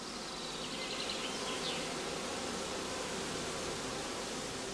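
Honeybees drone steadily around queen mating boxes on a heathland in northern Lower Saxony during swarming season, a dense continuous buzz of many insects at moderate level with no voices.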